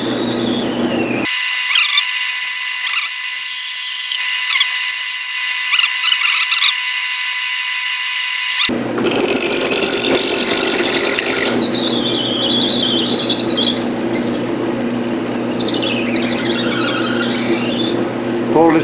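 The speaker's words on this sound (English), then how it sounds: "Alright, I've parted it off and turned it around. I'm going to make the internal thread." A lathe cutting an internal thread in a bushing, producing a loud sustained squeal and whine with shifting pitch, interrupted by a brief quiet gap.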